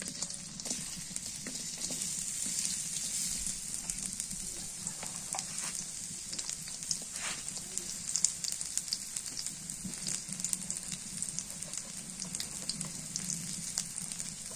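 Chopped onions sizzle and crackle steadily in hot mustard oil in a pan while cooking a goat-meat biryani, a dense, even frying hiss that lasts throughout with no talking.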